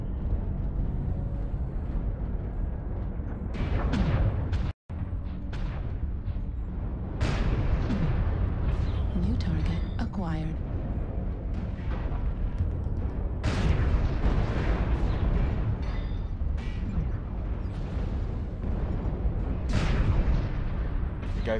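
Artillery barrage in the mech combat game MechWarrior Online during a faction warfare gate assault, with repeated heavy booms and rumbling blasts rolling continuously, loud and dense, with brief voice chatter mixed in.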